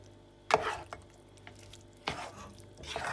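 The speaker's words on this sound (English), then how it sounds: "just stir it until it's all absorbed" Parmesan and butter stirred into an asparagus risotto in a pot: a few close, soft wet scrapes and spoon knocks at irregular intervals, with no talking.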